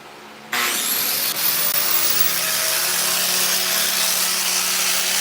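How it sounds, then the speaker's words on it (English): Angle grinder fitted with a disc, switched on while fleshing a cowhide, whirring up to a loud, steady, high-pitched whine that holds constant throughout after a brief quiet start. "I'm gonna turn this grinder back on."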